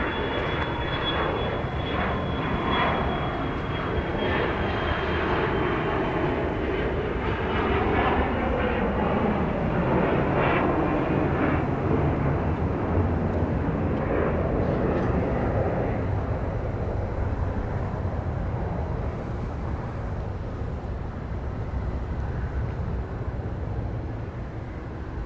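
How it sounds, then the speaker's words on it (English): An Embraer Praetor 500 business jet takes off from Dallas Love Field, its roar building to a loud, sustained rumble mid-way before slowly easing off as it climbs away. "This is an Embraer Praetor 500 going up Weston, Texas"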